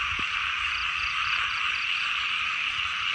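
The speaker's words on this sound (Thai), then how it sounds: "ฝนตกใหม่น้ำขึ้นกบเขียดเต็มเลยท่านผู้ชมเลย" Frogs croak in a dense, continuous chorus after fresh rain, with a steady high trill and faint repeated calls, and no voices.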